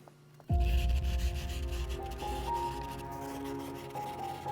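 A blade bevel being sanded by hand with 150 grit sandpaper, a close continuous rasping rub that starts abruptly and carries on steadily, with no voices.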